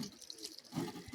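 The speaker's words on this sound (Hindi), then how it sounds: "ये पहाड़ी झरने का पानी है जो पहाड़ों के बीच से नेचुरल बिल्कुल स्प्रिंग से होकर आ रहा है" Mountain spring water flowing naturally down between hills, a soft continuous splashing and gurgling that swells louder partway through, heard close and with no talking.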